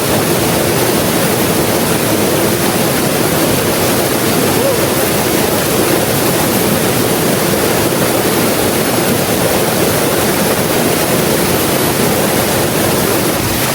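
The Kambal Elisa 88 Falls waterfall in Laguna roars without a break, a loud, dense wash of falling and rushing water close at hand that stays steady throughout.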